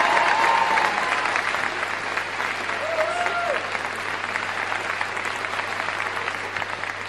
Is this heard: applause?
yes